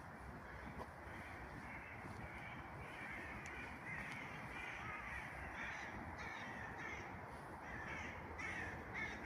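Crows caw repeatedly in a forest, several harsh calls at irregular intervals, some nearer and some more distant, over faint wind and rustling.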